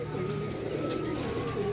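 A pigeon coos softly and repeatedly among a group of pigeons, half-buried under murmuring voices and background noise.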